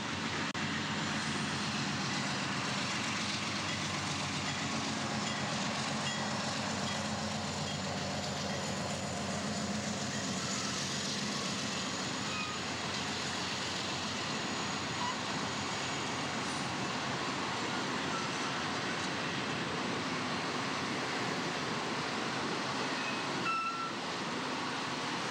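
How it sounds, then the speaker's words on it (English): Amtrak's westbound California Zephyr passenger train running on Burlington Northern's Chicago racetrack trackage, a steady, broad rumble and rush of rolling cars that holds evenly throughout, with no voices. "Amtrak train number 5, the westbound California Zephyr, has swapped Amtrak rails for BN owned and operated trackage"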